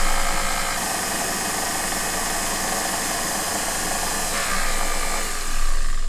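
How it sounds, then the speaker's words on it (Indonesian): A stand mixer with a bread dough hook churns dry ingredients for a Nutella braided bun, a loud continuous motor whir with a steady mechanical hum that holds throughout and shifts slightly near the end. "Nah, kita mix dulu tadi bahan keringnya."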